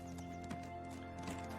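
Horse hooves clip-clop at a steady walking pace in the online game Black Desert Online, close and moderately loud over a constant droning musical backdrop.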